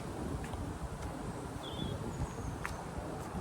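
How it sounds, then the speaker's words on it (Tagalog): Steady, blustery wind roars across the microphone with a constant rough rush and no letup, with faint rustling and a few distant chirps. "Malakas ang hangin ngayon"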